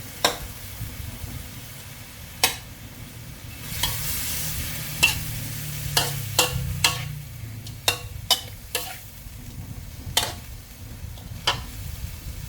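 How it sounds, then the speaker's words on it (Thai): Blanched shrimp and squid stir-fried with Chinese kale in a wok, with a steady soft sizzle and repeated sharp clacks of a utensil against the pan, unevenly spaced and fairly close, with no talking. "อันนี้เราก็ใส่กุ้งลวกกับหมึกลวกลงไปค่ะ ลงไปผัดนะคะ"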